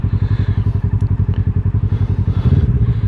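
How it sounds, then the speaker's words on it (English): A Kawasaki Versys 650 motorcycle engine braking while gearing down on a snowy commute: a steady, rapid, pulsing engine note with a loud, close, rhythmic throb and a brief shift in tone near the end. "cruising up on your back brake, gearing down, using the engine brakes."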